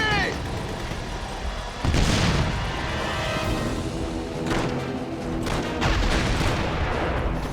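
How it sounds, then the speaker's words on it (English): A grenade explodes in Call of Duty: World at War, a sudden broadband burst about two seconds in, followed by scattered gunfire and battle noise under game music and voices. "Grenade!"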